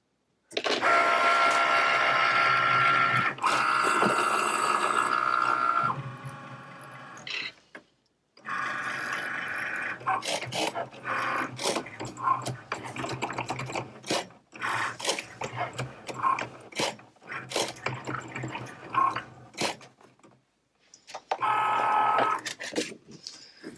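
A vinyl cutting machine slicing regular heat transfer vinyl hums and whirs steadily, with busy mechanical clicking and shifting motor tones, a brief pause near the middle and another near the end, and no talking.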